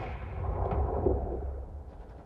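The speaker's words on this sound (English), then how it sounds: "There's a Red Mortar still blasting way out there." Distant mortar fire in the DCS combat flight game, a faint muffled boom rolling out and fading over a couple of seconds, heard alone.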